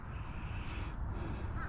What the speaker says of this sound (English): Sounds like the crows may be harassing a great blue heron